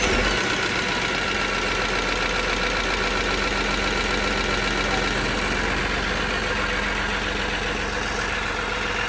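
A Tier 4 diesel engine on a 4-inch gravel pump runs at a steady idle, a loud continuous rumble with a knocking pulse that holds evenly from start to finish.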